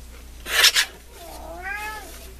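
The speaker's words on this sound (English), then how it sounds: "That's my daughter's cat." A cat, left alone and unhappy for the night, gives one drawn-out, wavering meow at close range, just after a short loud rustling clatter.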